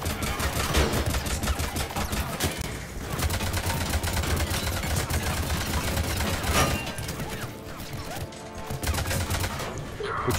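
Rapid, dense bursts of automatic gunfire in the Mass Effect 3 video game roll on almost without pause, loud and close, with a few louder single cracks over a steady battle backdrop.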